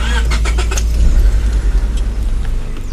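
A 1997 Honda Civic EX with a five-speed cranks briefly and catches, the engine settling into a steady idle rumble, close and loud with no talking.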